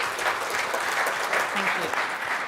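An audience applauds for a speaker named Sean at the close of a session at a sustainable aviation fuel supply chain conference, producing steady, dense clapping throughout with a voice faintly underneath.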